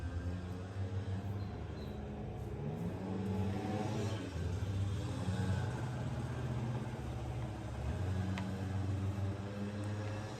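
Mopeds passing outdoors in the background of a hot day, a steady mid-pitched engine drone that swells and eases over several seconds, moderately loud and continuous.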